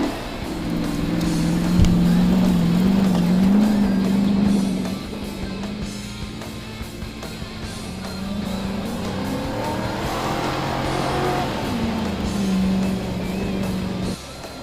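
Chevy and Ford police cars drive across graded silt terrain, their V8 engines rising and falling in pitch as they rev, accelerate and pass, sometimes overlapping, close and loud throughout.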